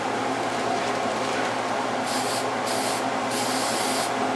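A spray can lays a light coat of paint on an old range stove hood, a steady close hiss running throughout with a few brief pulses near the end, no talking.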